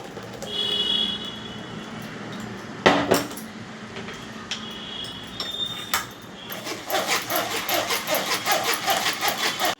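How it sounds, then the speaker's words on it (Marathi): Blended homemade tomato red chilli sauce is strained through a sieve in a kitchen, producing scattered metallic clinks and scrapes that become a quick, steady run of rhythmic scraping near the end, with no talk. "आता मी याच्यावर चाळण ठेवली बघा आणि हे सर्व गाळून घेते."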